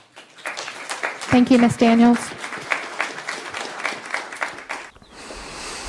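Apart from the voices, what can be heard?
audience applause at county council meeting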